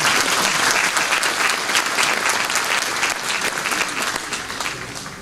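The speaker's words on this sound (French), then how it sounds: "Vous pouvez applaudir, oui." A hall audience applauds at a French mayor's New Year address, with dense, sustained clapping that stays loud throughout and eases slightly near the end.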